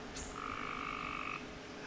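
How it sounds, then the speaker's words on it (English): Frogs croak close by outdoors on a walking trail, with a sustained trilling call lasting about a second, plus a brief higher chirp, over a steady natural background. "Frogs and stuff."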